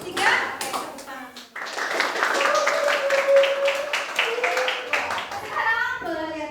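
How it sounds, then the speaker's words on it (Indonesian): A classroom of students clapping hands together during an ice-breaking game, bursts of group claps mixed with children's voices calling out and chattering close by. "Tepuk tangan."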